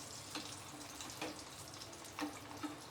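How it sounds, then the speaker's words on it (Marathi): Batata vadas deep-frying in hot oil give a soft, steady bubbling crackle, with a few louder pops at intervals; fairly faint, with no voices. "मस्त तेलात हे होत आहेत बटाटे वडे."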